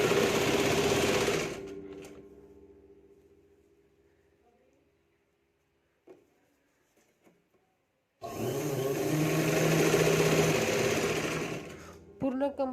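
An electric sewing machine topstitches through a blouse's lining and main fabric, running loud and steady, then slowing to a stop. A few faint clicks fill the quiet gap before it starts up again with a brief restart at the end.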